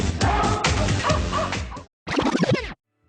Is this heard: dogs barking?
yes